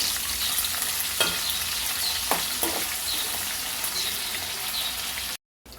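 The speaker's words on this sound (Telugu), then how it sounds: "అలాగే ఎండు రొయ్యలు కూడా వేసుకుంటున్నానండి. ఒకసారి కలుపుకుందామండి." Potatoes and dried prawns sizzle in a hot pan with a steady, bright crackle, while a spoon scrapes and stirs through them a few times, close and unaccompanied by talk, ending abruptly.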